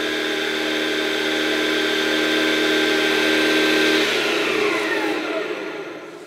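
A scratch-built mini bench saw driven by a 775 DC motor whirs with a steady high-pitched whine for about four seconds, then spins down smoothly and fades as power is cut.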